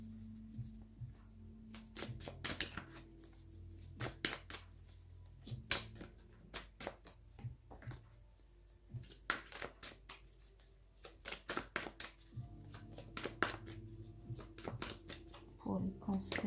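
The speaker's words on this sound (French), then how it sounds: "je mélange bien les cartes" A deck of oracle cards is shuffled by hand in repeated crisp riffling bursts, close and fairly quiet, with a soft voice talking in between.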